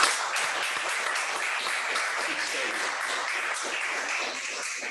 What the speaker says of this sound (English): May we have a nice round of applause for the entire team.